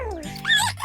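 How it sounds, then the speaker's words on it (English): A cartoon dog in a children's animal-learning show gives a short, high yip-like bark, brief and close, with a voice briefly overlapping. "This is just a dog, and he's wagging his tail from side to side because he's happy."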